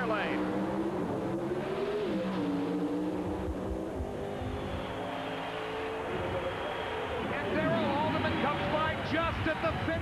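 Drag race cars at the 1989 NHRA AC Delco Heartland Nationals, Chrysler Hemi-powered, roar and climb in pitch as they accelerate down the strip, loud and continuous beneath a fast-talking announcer.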